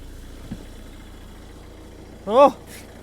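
A Ford Mondeo with a new battery idles with a low, steady engine drone throughout, joined near the end by a short voice-like tonal sound.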